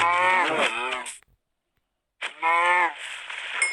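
Two long, loud moos from a cow in Minecraft, separated by a brief silence, close and clear.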